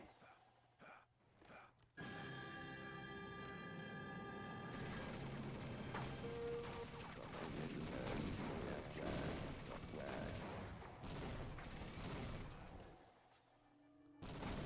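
Grenade blasts and gunfire in Team Fortress Classic, a dense, continuous barrage of explosions and shots in a long hallway fight, loud and sustained with brief gaps near the start and end.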